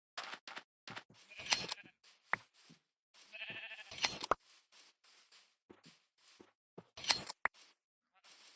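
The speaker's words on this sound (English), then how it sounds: "We got some sheep, we'll just shoot them." Sheep bleating in the video game Minecraft, several short cries scattered across the scene among clicks and game effects, fairly close and clear with no talking.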